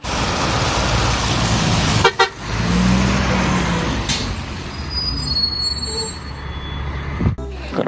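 A toy garbage truck gives loud, nearby horn toots over a steady electronic engine rumble, with brief hissing, air-brake-like bursts between them.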